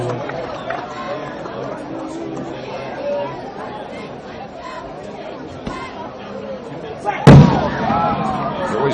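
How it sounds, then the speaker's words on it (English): A single sharp firework burst booms out near the end over the steady chatter of a crowd at a high school football game, while a commentator talks throughout. "They're always late on those fireworks"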